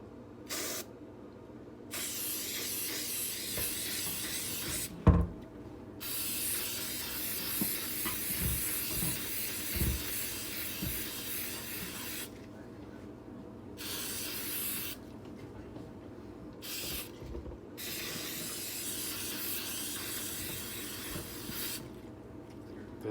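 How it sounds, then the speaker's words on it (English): Oil sprayed onto a K&N air filter in steady hissing aerosol bursts, several long sprays separated by short pauses, with a sharp knock near the start, close and clear with no talking. "you get the spray, and we're gonna spray it"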